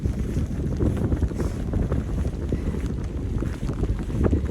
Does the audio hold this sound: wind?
yes